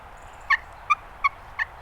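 A Longbranch turkey game call is worked softly, giving four short, evenly spaced yelps or clucks, quiet and close, with nothing else heard between them.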